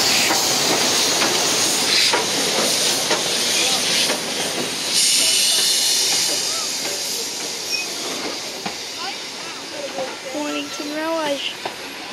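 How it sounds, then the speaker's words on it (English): A heritage train on the Mornington Peninsula Railway passes close by, rumbling and hissing, a broad steady roar that slowly fades, with faint squeals near the end. "Train just passed."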